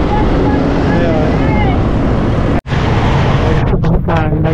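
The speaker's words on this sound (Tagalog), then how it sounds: "Medyo mahangin pag mabilis, lalo na mabilis yung takbo." Heavy wind buffeting a microphone while riding fast along the Laguna Lake loop, a loud continuous roar broken by one brief dropout, with engine and road rumble underneath.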